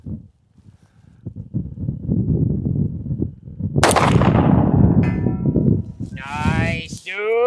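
Gunshots fired at a distant target crack out among steady outdoor noise, with a loud burst near the middle and people talking and reacting over the shooting.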